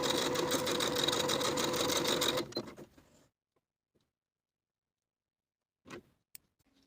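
A sewing machine stitches darts on back pant pieces in a fast, steady whirring run for about two and a half seconds, then stops into silence broken by a couple of soft handling clicks.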